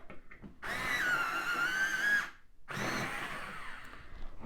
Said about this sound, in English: I'm going to sharpen that up.